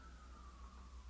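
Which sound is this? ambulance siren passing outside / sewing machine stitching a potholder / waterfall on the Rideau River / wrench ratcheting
ambulance siren passing outside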